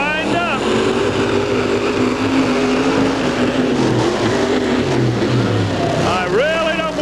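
A racing truck engine roars loud and continuous during a timed drag run at a 1990 special event in Rockford, Illinois, pitch rising and shifting, with an announcer talking over it.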